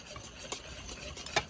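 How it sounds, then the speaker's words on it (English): Faint stirring of white cake flour and salt together in a bowl, soft scraping swishes with a couple of light clinks of a utensil, quiet and close with no talking. "Now mix the dry ingredients together until combined."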